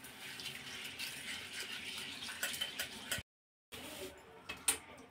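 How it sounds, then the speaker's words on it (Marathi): Tap water runs into a pressure cooker holding chana dal and toor dal for rinsing, a soft continuous splash and trickle with a few small clinks, broken by a short silence. "कुकरमध्ये चणा डाळ आणि तुरीची डाळ टाकून घ्यायची, पाणी टाकून दोन तीन पाण्याने ह्या डाळी आपण धुवून घेणार आहोत"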